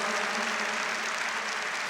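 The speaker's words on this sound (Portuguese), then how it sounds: "Vamos aplaudir a palavra de Deus, aclamá-la com alegria" A church congregation applauds together at a Catholic service, a dense, even wash of clapping filling the space without a break.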